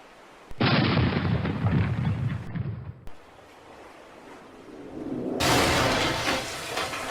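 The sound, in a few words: cannon firing in a pirate play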